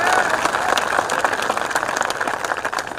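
Audience applause at a Hindi poetry gathering (kavi sammelan), a dense burst of many hands clapping steadily throughout, fairly loud and close, with no pauses.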